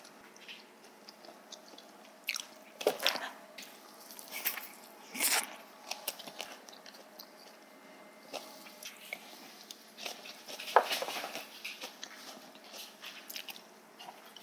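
Close, quiet bites and soft squishy chewing on egg kimbap with plenty of carrot, in irregular bursts with small crunches and pauses between mouthfuls.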